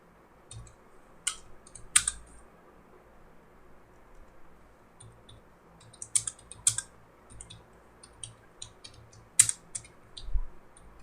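Keys clatter on a computer keyboard in short, irregular clusters of clicks with quiet gaps between them, fairly soft and close, with no talking.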